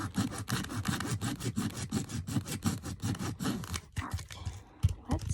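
Rhythmic sawing strokes cut into a doll during customizing, a steady back-and-forth rasp repeating about twice a second, close and fairly loud, with a few harsher scrapes near the end.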